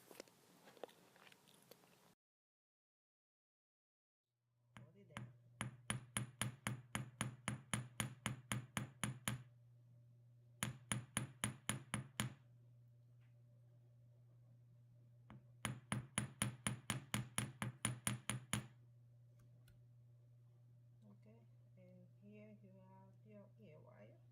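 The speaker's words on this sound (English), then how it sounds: "And I just want to hammer the curve of the ear wire." Rapid metallic taps in three quick bursts, each a string of sharp hammer strikes on the curve of a wire earring hook, over a steady low hum, with brief talk at the edges.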